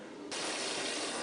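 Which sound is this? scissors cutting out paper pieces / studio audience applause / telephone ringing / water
water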